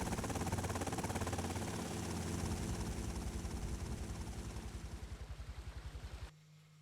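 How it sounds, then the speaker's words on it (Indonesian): A helicopter in the game GTA Vice City, its steady rotor drone and engine whine loud and close, the blade beat pulsing faster and more distinct before cutting off abruptly near the end. "kita dijemput helikopter"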